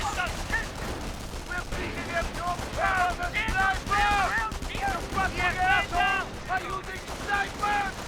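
Gunfire hits Volksgrenadiers in a Company of Heroes battle. Repeated rattling bursts sound mid-distance and fairly soft, with a voice talking over them throughout.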